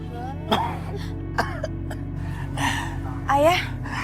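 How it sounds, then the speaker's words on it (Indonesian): A man coughs and clears his throat several times, harsh short bursts close by over a steady background hum. "Ayah kok batuk-batuk terus sih?"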